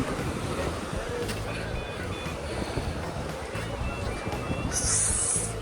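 Sea waves wash onto a beach in a steady broadband roar, with wind buffeting the microphone and voices talking over the surf throughout.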